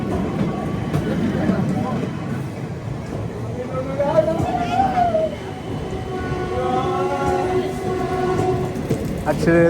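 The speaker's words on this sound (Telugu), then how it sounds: "హాంకింగ్ వచ్చింది ఆ ట్రైన్కి, బయలుదేరిపోద్ది." A train at Nellore station sounds a horn and starts departing, with rumbling rail noise and tonal horn or brake whines rising and falling over steady background, while a person talks nearby.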